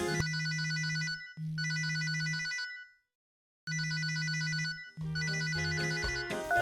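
A telephone ringtone plays three bright, electronic ringing bursts of about a second and a half each, separated by short gaps and a longer pause, clear and close with nothing else heard.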